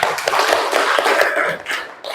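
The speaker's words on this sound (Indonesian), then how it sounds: "Tepuk tangan untuk kita semuanya." Classroom applause from students during a science lesson, close uneven clapping with quick hand taps for about two seconds, briefly thinning before picking up again.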